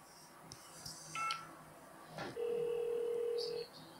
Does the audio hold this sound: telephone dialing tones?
yes